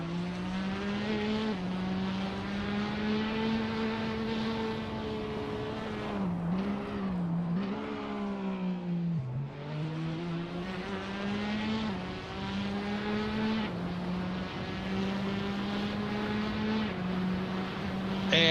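Porsche race car lapping Bathurst in a racing video game, its engine tone rising and dipping through gear changes and corners with one sustained, close, continuous whine, no talk.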